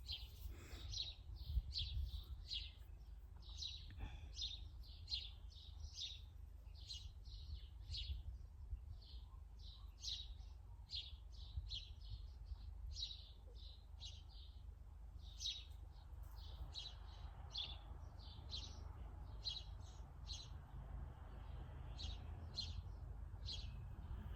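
Small birds chirp and tweet in quick, repeated bursts outdoors, fairly faint over a low steady rumble of background noise.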